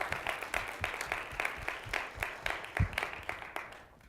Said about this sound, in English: We give Shari another round of applause.